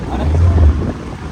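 A small passenger boat carries people across water on a short ride, its motor giving a low steady drone mixed with wind buffeting the microphone.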